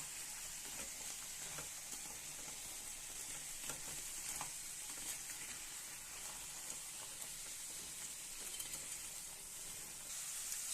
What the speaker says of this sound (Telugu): కారం వేసుకొని మంచిగా కలుపుకుందాం.